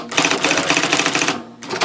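An IBM Selectric typewriter types a rapid, steady run of loud mechanical keystrokes and clacks, then pauses briefly before one more burst.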